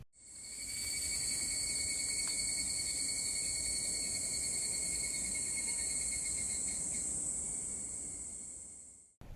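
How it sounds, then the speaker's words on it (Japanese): A higurashi cicada calls at dusk, a steady high-pitched shrill drone that continues unbroken for several seconds at moderate distance. "この夕方に鳴くセミはヒグラシーと呼ばれるセミの種類で"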